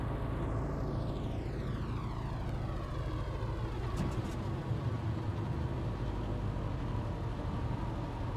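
Droning plane engines in Microsoft Flight Simulator, a steady loud hum with a rising and falling pitch sweep as the aircraft passes or changes speed, continuous and close.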